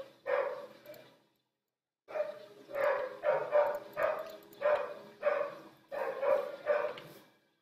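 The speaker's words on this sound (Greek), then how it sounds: "Και τα κοπρόσκυλα να γαυγίζουν" Stray dogs bark repeatedly outdoors, a steady run of loud, close woofs in quick bursts with a brief pause, one dog's barks dominating.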